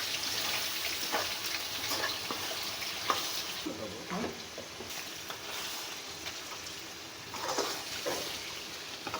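Homemade spices for white korma frying and being stirred in a pan, giving a steady soft sizzle with scraping stir strokes throughout, fairly quiet and close.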